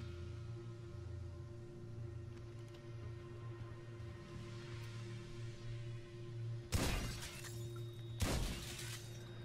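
Two sharp bursts of glass shattering in GTA 5 ring out a couple of seconds apart as a character walks through a pane, loud against a quiet low game hum with no talking.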